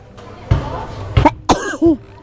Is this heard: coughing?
yes